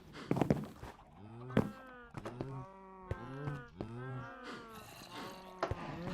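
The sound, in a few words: cows mooing in the video game Minecraft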